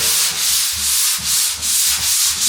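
Steady abrasive scraping of sanding drywall compound, repeating in rhythmic back-and-forth strokes, close and fairly loud with no talking.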